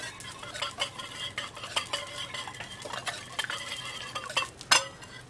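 A spoon stirring hot cabbage soup with young white cabbage and leftover cold cuts in a pot, scraping and clinking against the metal repeatedly at a close, quiet level.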